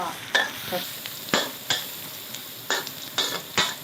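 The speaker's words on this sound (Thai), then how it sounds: "แค่เจียวให้มันหัวหอมมันหอมแล้วเดี๋ยวเราเอาหมูไปผัด" Shallots sizzle steadily as they fry in a pan, close by. A spatula knocks and scrapes against the pan at irregular intervals, and no one speaks.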